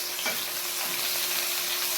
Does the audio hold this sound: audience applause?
no